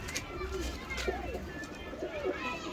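Rare-breed pigeons in a breeder's loft coo in low throaty calls, with someone talking over them throughout.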